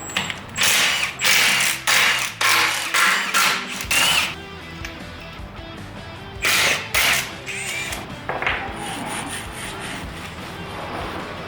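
A hand ratchet on a Ford Bronco, removing the slave cylinder and shifter, clicks in loud rhythmic bursts of quick strokes, close up, with pauses and some metal rubbing.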